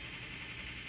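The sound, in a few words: gaming PC fan noise at startup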